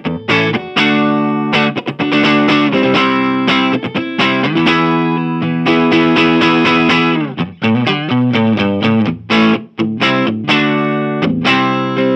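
Electric guitar played through an Orange Micro Terror head at full volume, loud and driven with distortion, chords and notes strummed in bursts with brief gaps, close and alone without talk.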